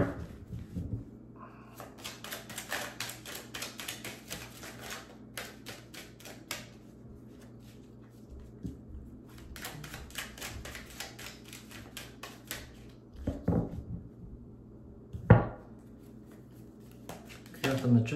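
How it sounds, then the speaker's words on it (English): Tarot cards are shuffled in repeated rapid riffling bursts, quiet and close, with a few louder taps and knocks as the deck is handled. "One more shuffle."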